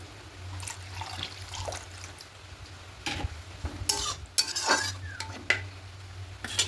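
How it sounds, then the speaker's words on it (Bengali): Egg curry cooking in a pan as water is added, bursts of hiss and sizzle with clinks of a utensil against the pan over a low steady hum. "আর একটু জল দেব"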